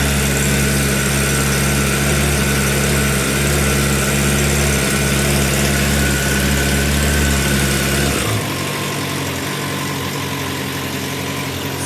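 A Suzuki Bandit 600 S motorcycle engine runs loud and steady at idle, a smooth even drone that drops abruptly to a quieter, lower idle after about eight seconds.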